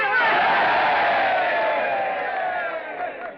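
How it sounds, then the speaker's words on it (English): A crowd of men cheers and hollers together in a loud, sustained burst of voices that tapers off slightly toward the end, in an old Western film scene. "A cheer for the little lady."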